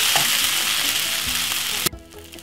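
Sweet chili fried rice sizzles loudly in a hot pan, a dense continuous frying hiss with light stirring knocks that cuts off abruptly near the end.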